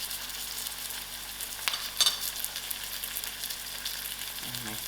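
Ginger and garlic drop into a pan of soft fried onions, setting off a steady, fairly quiet sizzle with a brief louder crackle and a stir midway, and no talk.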